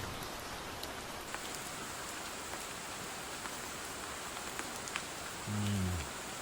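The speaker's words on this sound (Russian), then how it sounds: "Никто не знал, что будет дождь." Rain falls steadily in a jungle camp, a dense even hiss of drops close around with faint patter, briefly joined by a low hum near the end.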